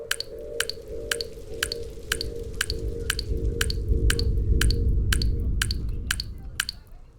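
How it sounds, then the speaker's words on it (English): Evenly spaced dripping in a Unity horror game, about a dozen sharp wet plinks repeating at a steady quick rhythm over a low rumbling bed, fairly close and clear. "that sounds horrible with the drip"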